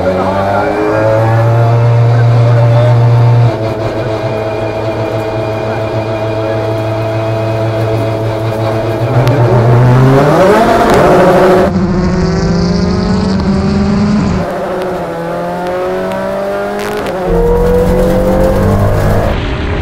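Toyota cars, petrol, hybrid and classic models, in a rolling drag race, their engines revving loudly with rising and shifting pitch as they accelerate, close and continuous throughout, with voices talking over the engine noise.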